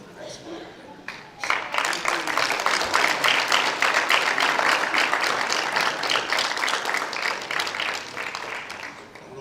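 A school senior scholastic awards audience breaks into sustained applause, many hands clapping steadily and loudly for several seconds after a brief lead-in.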